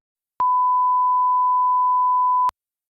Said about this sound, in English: I need to beep out certain words